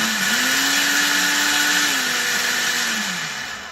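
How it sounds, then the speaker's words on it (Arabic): A 1000-watt Kenwood blender motor whirs steadily at its first speed, a loud continuous hum that wavers slightly in pitch and tapers off toward the end. "بيبان من الصوت قوة الموتور"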